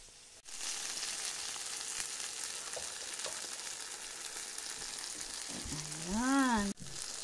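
Beaten eggs sizzling in a hot pan, a steady crackling hiss that fills the scene close up, with a brief scraping stir near the end.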